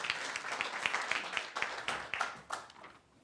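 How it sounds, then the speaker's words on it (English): An audience at a sport summit on concussions applauds the first speaker. Many hands clap steadily at moderate volume, and the applause tapers off toward the end. "let's give a round of applause for our first speaker to set the stage today"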